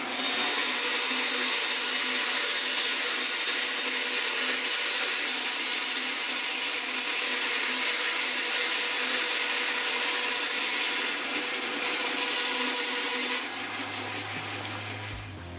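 A saw cuts through a wooden pen blank with a continuous, loud, rasping sound that runs almost the whole time, then gives way to a low hum before fading out.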